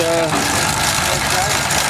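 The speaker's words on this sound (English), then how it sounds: "it says Titan on the side, it's a Titan engine. Running a stationary baler." A Titan stationary engine runs a stationary baler baling straw, a close, continuous, rough chugging mechanical roar that fills the short moment.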